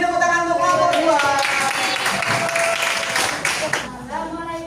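Students in a classroom clap for the second group, a steady dense round of applause lasting several seconds and fading slightly near the end, with a voice heard briefly at the close.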